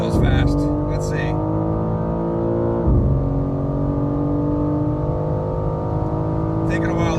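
A tuned G80 BMW M4 Competition xDrive accelerates hard from inside the cabin, a loud, steady engine roar with rising harmonics, broken by a brief shift dip near the middle, with faint voices at the start and end.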